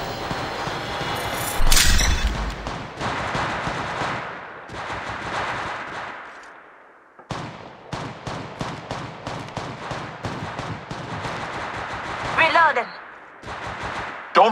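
Rapid bursts of automatic gunfire from the video game Apex Legends crackle loudly and close in repeated volleys with short gaps and a pause mid-way, while in-game voice callouts speak under the shooting.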